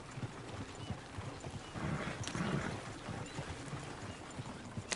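Horse hooves clip-clop steadily through an outdoor scene in Red Dead Redemption 2, a brief whinny rising around the middle, moderately close with ambient game noise behind.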